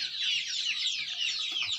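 Desi chicks cheeping in a dense, continuous chorus of high peeps, with occasional low clucks from chickens nearby underneath.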